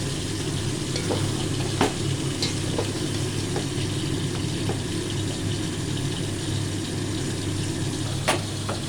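Shahi simai vermicelli stirred and tossed in a pan over a raised gas flame, a steady close sizzle with occasional scraping clicks of the spoon, no talking.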